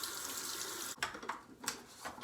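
Water runs from a bathroom tap during rinsing, a steady close splashing stream with a few louder gushes and clatters as hands or a container pass under it.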